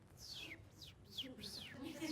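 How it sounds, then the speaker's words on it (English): A sparrow flying past on a honeysuckle-scented parkway gives several quick, rising and falling chirps, fairly close but soft, over a low steady background murmur. "Ah, a sparrow flies by."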